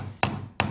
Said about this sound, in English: Let the weight of the hammer fall.